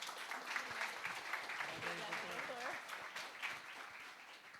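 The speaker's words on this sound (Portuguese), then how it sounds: "Uma salva de palmas para ela, gente." An audience at a talk on law practice and social media claps steadily and fairly faintly, with a voice speaking over the applause throughout.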